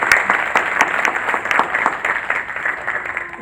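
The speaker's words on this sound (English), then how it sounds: "Please round of applause." Audience at a candidate forum breaks into scattered applause, individual claps distinct and fairly close, fading a little toward the end.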